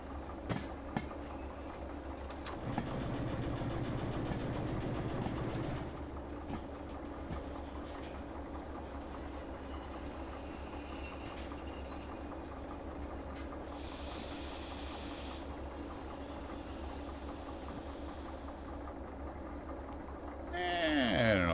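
A locomotive engine runs in the Derail Valley train simulator game, giving a steady low rumble throughout, with a louder throbbing surge early on and a burst of hissing partway through.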